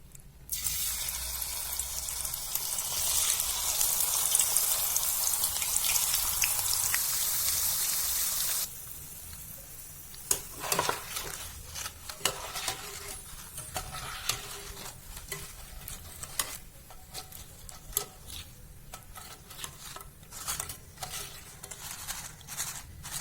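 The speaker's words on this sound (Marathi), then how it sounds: "आता आपण हे बाकीचे राहिलेलेही वेपर्स तळून घेणार आहोत." Raw banana slices fry in hot oil, a loud dense hiss filling the first eight seconds, then a quieter sizzle broken by frequent clinks and scrapes of a spatula stirring the chips, close by, with no talking.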